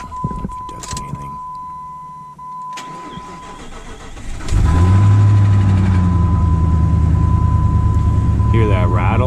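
An old Jeep Cherokee that has sat unused cranks and fires up after a few seconds of quiet clicks and shuffling, then settles into a loud, close, rough idle with a steady rattle.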